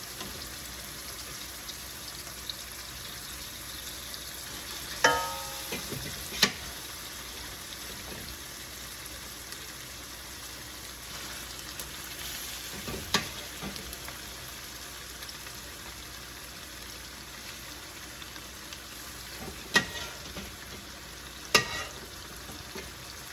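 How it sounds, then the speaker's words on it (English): Beef sautéing in a pan with tomato sauce and tomato paste for a Filipino kaldereta stew, a steady soft sizzle with occasional louder stirring clatters and scrapes. "you saute the meat with tomato sauce and tomato paste at the same time"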